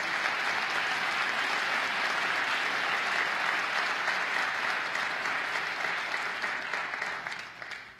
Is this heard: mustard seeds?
no